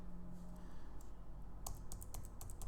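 Quick keystrokes clatter on a computer keyboard, a few scattered taps giving way to a denser run of close, crisp clicks near the end, with no speech.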